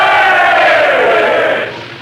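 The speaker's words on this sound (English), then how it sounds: "Gosh, look at that crowd." A large crowd roars and shouts together in a loud, dense swell of cheering voices on an old radio broadcast, holding steady and then fading down near the end.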